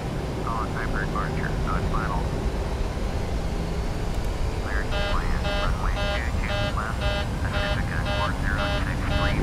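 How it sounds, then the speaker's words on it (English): A cockpit alarm in a PMDG 737-800 flight simulator during a rolling takeoff, with rapid, evenly spaced electronic beeps that start partway through and repeat steadily to the end over steady engine rumble, after a brief voice earlier. "Really sure why we've got an alarm."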